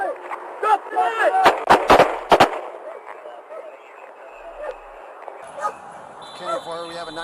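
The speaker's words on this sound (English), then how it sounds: "Multiple shots were fired at Wolfscott to ensure that he didn't get up again" A quick volley of police gunshots fired at a suspect during a confrontation after a high-speed chase, several sharp loud cracks close together amid shouting voices, with a dog barking and radio chatter following.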